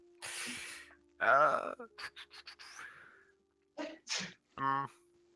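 A sharp sneeze bursts out amid casual speech during a tabletop role-playing game, followed by a few short voiced sounds and talking nearby.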